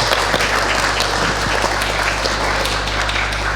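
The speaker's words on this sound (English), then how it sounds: "Applause would be" Audience at a tech conference talk on WebAssembly bursts into steady, sustained applause, a dense even wash of clapping from a crowded hall with no talk over it.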